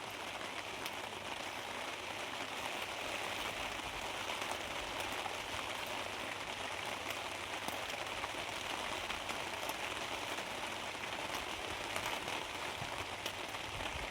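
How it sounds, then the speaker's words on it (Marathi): A light drizzle falls steadily outdoors, a soft continuous patter on surfaces with no voices, quiet and even throughout. "पण आता ही झिरमिर चालू राहिली"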